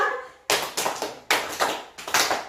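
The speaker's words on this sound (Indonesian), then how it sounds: "Tepuk 1, tepuk 2, tepuk 3" Hand claps in a classroom rhythm exercise, a group clapping together in counted sets: sharp, loud bursts falling in an uneven pattern of grouped claps with brief pauses, a short voice at the very start.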